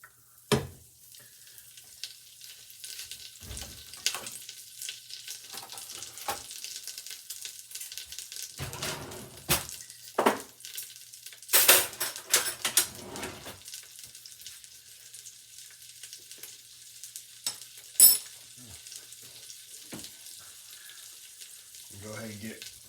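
Butter sizzles and crackles in a hot pan as it is spread around, a continuous fry hiss with intermittent scraping and clatter of a utensil, and a voice speaks briefly over it.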